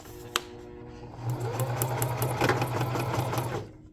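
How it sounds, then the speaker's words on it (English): A sewing machine stitches fabric in a steady, continuous whir for about three seconds after a short click, running close and fairly loud with no talking, as in practising back stitching on a straight seam. "practice a little bit of back stitching"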